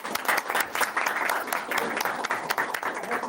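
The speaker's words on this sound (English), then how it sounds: "So let's give them a round of applause." Applause at a school board meeting, a steady wash of many hands clapping at moderate distance, continuous for a few seconds with faint murmuring voices underneath.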